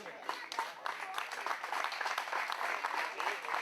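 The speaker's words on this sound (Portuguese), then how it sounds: "Grande aplauso para eles." Crowd applause for the finalists at a 2023 flat track motorcycle race in Prado, Braga: steady, dense clapping at a distance, with an announcer talking over it.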